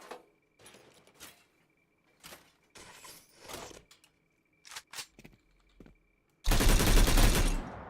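A PKP machine gun fires in the game Stalcraft in short bursts and single shots separated by pauses, then one long, loud sustained burst at the end.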